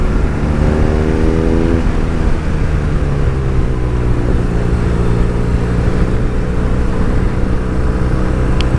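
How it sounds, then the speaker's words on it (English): A BMW R nineT motorcycle with its standard exhaust rides through the Cotswolds, its engine a steady, loud, close drone mixed with wind rush for the whole stretch, with no voices. "this is the standard exhaust. I just can't believe that it really sounds like that."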